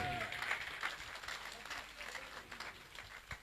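Audience applause at a motivational meeting, scattered clapping at modest volume with voices mixed in and a few sharper individual claps standing out.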